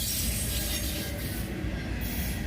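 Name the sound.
freight train cars passing on the tracks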